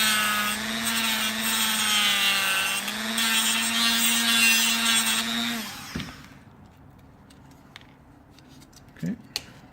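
A power grinder whines steadily for about six seconds, cutting material off a clamped gauge mount, then stops, leaving a few faint clicks and light handling sounds.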